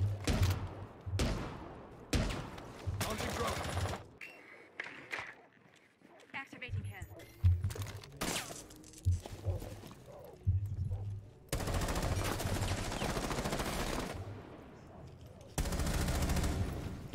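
Video game gunfire comes in loud bursts of rapid automatic shots separated by short gaps, with a player talking in between.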